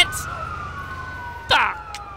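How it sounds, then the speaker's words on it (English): Wailing ambulance siren from the LCPDFR police video game, a steady sweeping tone running throughout with a louder burst of game noise partway through and some voice in the mix. "Oh my god, ambulance! Ambulance!"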